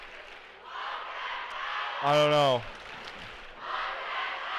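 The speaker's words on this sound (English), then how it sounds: "the crowd's really getting into it" A crowd cheers and claps at a high school junior varsity boys basketball game between Kellogg and St Maries, a steady roar with a louder burst of shouting midway, while someone talks over it.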